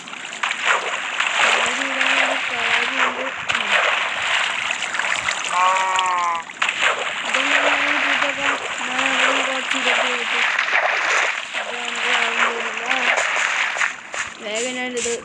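Flowing water in a video game, a bucket-fed stream rushing in a steady, close wash that runs throughout while a person talks over it.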